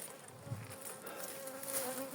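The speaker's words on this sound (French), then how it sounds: "on a un essaim monstrueux qui est là" A monstrous swarm of honeybees hums in a steady, continuous drone outdoors near a beekeeper's hives, with no voices over it.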